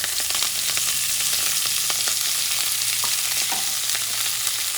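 Sofrito of green and red peppers, cilantro and recao frying in a pan for Puerto Rican rice with calamari, giving a steady close sizzle with a few soft stirring clicks and no talk.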